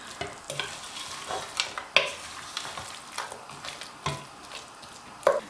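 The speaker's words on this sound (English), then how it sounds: "After a few minutes of stir frying, I'm going to cover it." Vegetables being stir fried in a pan for a vegetable bhujiya, with soft scraping stirs and light sizzling, punctuated by a few sharp clinks of a utensil against the pan.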